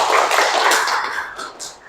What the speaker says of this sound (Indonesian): Oke, aplaus lagi lah.